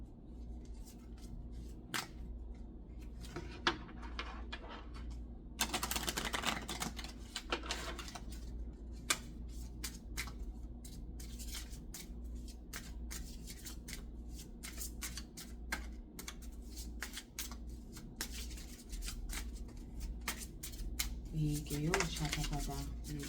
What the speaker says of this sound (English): I'm going to get a final card for Visions of the Soul